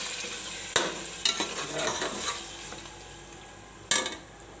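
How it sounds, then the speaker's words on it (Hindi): Yogurt and chutney gently frying in a pot, a faint low sizzle broken by a few spoon clinks and scrapes against the metal, close and quiet with no talking. "तो इसमें डाल के इसको आप हल्का हल्का भूनती जाऊँगी।"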